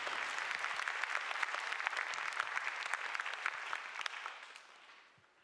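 Congregation at a youth worship service in a Daegu church clapping to welcome the pastor, a dense wash of applause that holds steady, then fades out over the final second.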